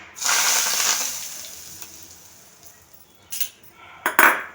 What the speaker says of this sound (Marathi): आता ही फोडणी आपल्याला या बटाट्यावरती घालायचे